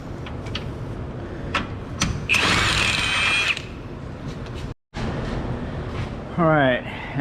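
A 21 mm lower control arm bolt on a Ford Fusion is worked loose with a power tool, giving one short whirring burst amid scattered clicks and clanks, then a brief rising whine near the end.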